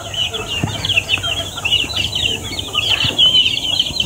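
Chicks and chickens on a farm chirp in a dense, continuous high peeping chorus, with occasional clucks and wing flaps mixed into steady low background rumble.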